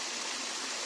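Close, steady rushing of a small river beside a house, a continuous wash of flowing water filling the short moment.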